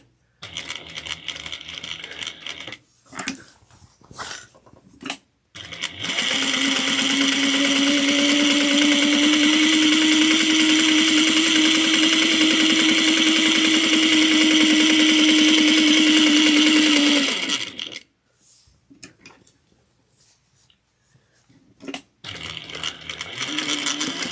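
A sewing machine runs continuously for about twelve seconds while stitching a tote bag, a steady loud whirring hum, with shorter bursts of machine noise and a few clicks before and after.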